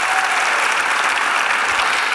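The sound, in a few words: audience applause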